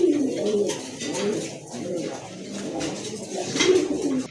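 Pigeons coo in soft, repeated low calls from a loft of zero-feather Afsan grizzle birds, a few throaty phrases rising and fading close by with no talk.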